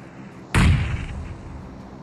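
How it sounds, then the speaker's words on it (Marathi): A bomb explosion in PUBG, a single sudden loud blast that starts sharply and then decays into a rumbling tail. "मग बॉम्ब टाकला बघितलं"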